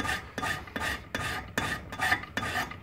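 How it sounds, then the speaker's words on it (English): A broadhead blade is ground to a single bevel in seven even, rhythmic rasping strokes, each a harsh scrape with a short pause between, close and loud with no voices. "all this grinding actually cuts away the bevel on the other side"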